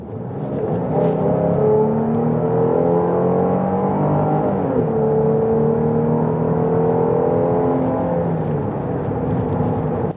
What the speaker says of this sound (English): Now we're going to try and hit a hard acceleration, see what happens.